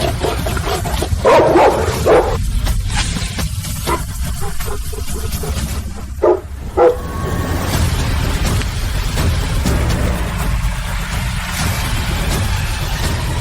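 A large dog barks in a dramatic scene, several loud bursts mixed with other noise and a passing-car-like rumble, fairly close.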